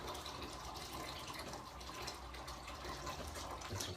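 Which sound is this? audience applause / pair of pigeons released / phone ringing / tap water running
tap water running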